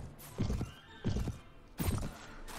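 In the Mount & Blade Warband video game, a horse whinnies in three repeated bursts, each paired with a clatter of hooves, close and fairly clear over a quiet background.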